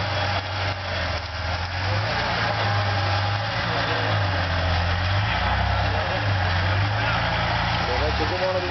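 Car engine revving hard as an off-road vehicle tries to drive out of a stuck spot at a Serbian trophy event, a continuous rough drone with rising throttle pulses under shouting voices.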